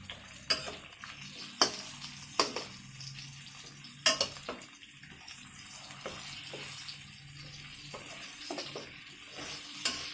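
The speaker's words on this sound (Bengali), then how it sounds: "হলুদ লঙ্কা দিয়ে একটু ভেজে নেবো" Turmeric and chili powder frying in a pan with mango and potato, heard as a soft steady sizzle broken by clinks and scrapes as a spoon stirs, close by with no talk.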